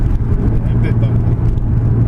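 Toyota Supra MK4 with a 1JZ or 2JZ engine driving over a bumpy road, a steady low engine drone with road rumble heard from inside the car, continuous and fairly loud throughout.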